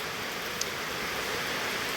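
Heavy rain pours down in a dense, unbroken wash of hiss, steady and close throughout with no voices over it.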